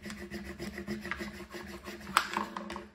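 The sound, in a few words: small scraper rubbed hard over vinyl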